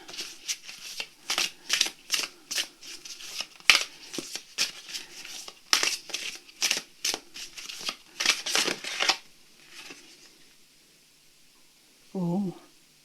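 Oracle cards are riffle-shuffled in rapid repeated bursts of crisp flicking, then go quiet before a brief murmuring voice at the end.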